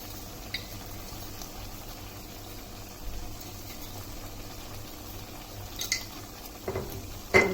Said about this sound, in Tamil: எடுக்கிறதுக்கு முன்னாடி ஒரு 2 நிமிஷம் அப்படியே உப்பு போட்டு வேகட்டும்.